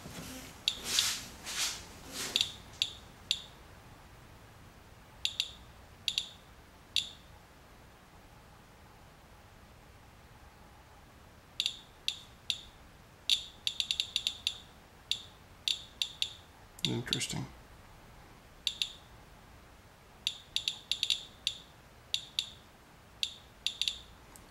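Short sharp beeps from a Geiger counter measuring wet storm particulate tick at irregular, random intervals, clustering in bursts then falling quiet; one brief spoken word and some handling noise.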